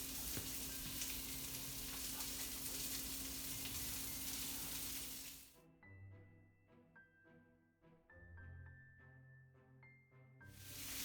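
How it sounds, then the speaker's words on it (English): Sausage and meatballs frying in a pan give a loud, steady sizzle for several seconds. The hiss then drops away abruptly into quieter, tonal background sounds. "So I'm going to put those in while I'm still cooking the remaining meatballs"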